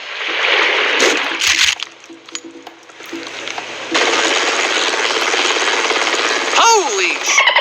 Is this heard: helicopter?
yes